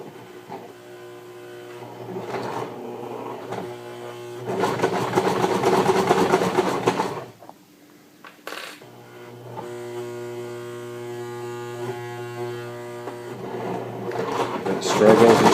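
A Baby Lock BL9 sewing machine stitches through leather in steady motorized runs, pausing briefly around the middle before resuming at a slow, even pace with a constant hum.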